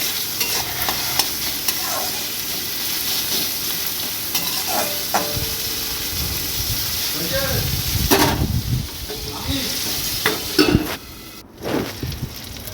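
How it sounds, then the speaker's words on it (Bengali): Chopped tomato and capsicum stirred in a hot pan with noodles for chowmein, a steady sizzle with scraping spoon strokes and occasional clinks of metal against the pan, continuous and close. "কুচনো টমেটো আর ক্যাপসিকাম দিয়ে আবার ভালো করে নাড়াচাড়া করে নেব"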